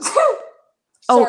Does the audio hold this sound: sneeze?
yes